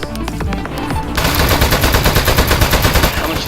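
Rapid automatic gunfire from a desk turret in the video game Aperture Desk Job, loud and close, starting as scattered shots and then breaking into a sustained fast burst that runs to the end.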